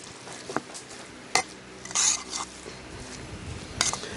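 Sausage meat and onion mixture gets stirred in a bowl for camp oven sausage rolls: intermittent scraping and clicking of a spoon against the bowl, a few sharper knocks and soft squelching, fairly close.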